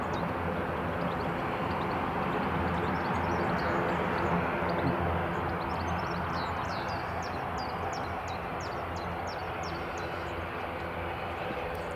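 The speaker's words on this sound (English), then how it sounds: "Loganair just taxiing along now to runway 25." Loganair ATR turboprop taxiing toward runway 25 at Newcastle International Airport, a steady, continuous engine drone that holds at a fairly even level throughout, with faint bird chirps high above it.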